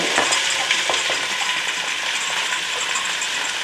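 Sauerbraten sears in a pot with brown sugar and spices, giving a loud, continuous sizzle and frying hiss. A few faint stirring clicks sound under it, and nobody speaks.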